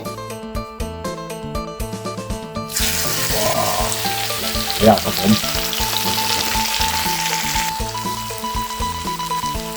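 Loud, steady sizzling of minced pork frying in a hot wok with chili flakes and seasonings, with occasional stirring scrapes, starting abruptly after background music, with a brief spoken phrase.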